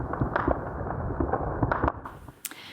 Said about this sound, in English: gunfire resumed in Khartoum shortly after the two sides announced a 72-hour ceasefire